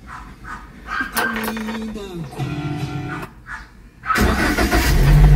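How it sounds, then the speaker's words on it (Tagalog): A second-hand 2022 Toyota LiteAce FX's engine catches and settles into a loud, close rumble after a stretch of talking and tonal background noise, with a dog barking in the distance. "open natin yung makina"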